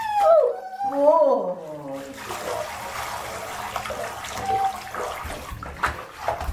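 A dog is washed with water in a bath. Its whining howls come first, followed by running and splashing water. A person speaks under the water noise.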